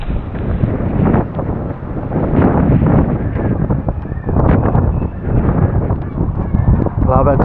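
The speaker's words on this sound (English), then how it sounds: "Still raining, still windy." Strong wind buffets the microphone in loud, rumbling gusts during rain at Blouberg Strand beach, Cape Town, with a voice partly heard beneath the blustery roar.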